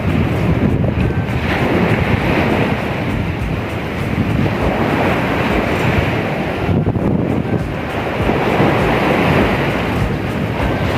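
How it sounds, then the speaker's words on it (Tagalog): Strong ocean waves breaking on a beach in a steady, loud roar of surf, with heavy wind buffeting the microphone and no talking. "Grabe lakas ng alon guys."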